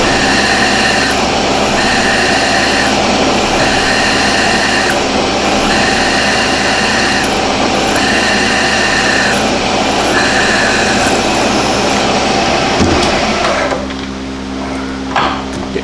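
A Baldor bench grinder grinds a hot rolled steel plate with a loud, steady high whine that pulses in a regular rhythm, then cuts off and quiets down shortly before the end.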